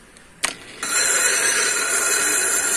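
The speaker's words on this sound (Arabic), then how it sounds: "هسرع يا جماعة الموتور شوية اهو، هستخدمه على الوضع الطبيعي" An angle grinder motor spins up while sharpening the jaws of old, dull pliers: a short knock, then a steady, loud high-pitched whine that holds continuously to the end, with no talking.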